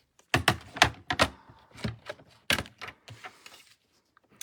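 A paper trimmer slices through designer series paper in a string of sharp clacks and slides, several close, loud strokes with brief pauses between them, then silence.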